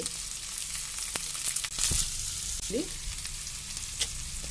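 Onions sautéing in hot oil with curry leaves for a spicy onion chutney, giving a steady close sizzle with occasional stirring scrapes and small pops throughout, no talking.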